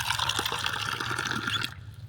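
Water pours by hand into a vessel at a temple, a steady close trickle and splash that cuts off near the end.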